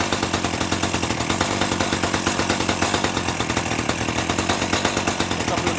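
A 1984 Dolmar 100 chainsaw runs steadily at a rapid, even two-stroke idle, loud and close, with a rattly buzzing pulse throughout and no pauses.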